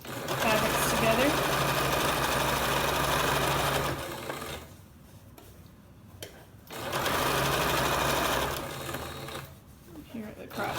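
A sewing machine stitches fabric seams for reversible shorts in close, fast bursts of whirring, pausing for a few seconds between runs while a person talks through the gaps.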